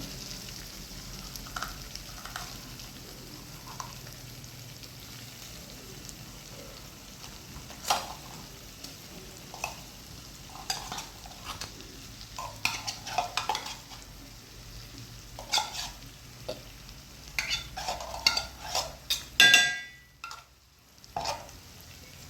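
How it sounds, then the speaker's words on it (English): Meat frying in hot oil in a pan while dinner is cooked, a steady close sizzle with scattered stirring clatter and utensil knocks, growing busier toward the end before a sudden brief drop. "I'll be putting my meat in the oil and let it cook for some time."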